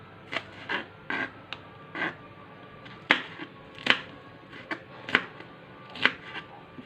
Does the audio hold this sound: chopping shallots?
yes